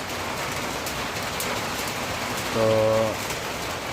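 Heavy rain falling outside, a steady dense hiss of drops on surfaces throughout, with a short spoken word briefly over it.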